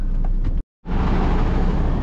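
A MAN truck pulls away, its broadband engine and road noise steady and loud, broken by a brief silent gap before the drive continues.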